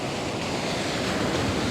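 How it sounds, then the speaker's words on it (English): Loud, continuous rush of flowing water and surf over rocks at a beach, a dense broadband roar with no pauses and no voices. "look at that water flow."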